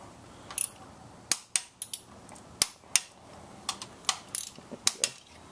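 A ratchet wrench snugs down 14 mm bolts during Subaru timing belt work, giving sharp, irregular clicks in small clusters, close and fairly quiet with no talking.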